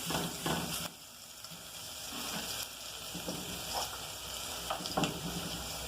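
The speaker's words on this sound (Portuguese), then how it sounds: "Vou deixar o alho dar uma refogada aqui." Garlic sautés in a hot pan, a steady soft sizzle with a few brief clicks and stirring scrapes, moderately close and alone without speech.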